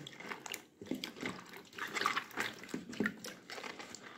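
Flat beans (sheem) are swished and rubbed in a vessel of water, giving quiet, irregular splashing and dripping sounds, close by and with no talk.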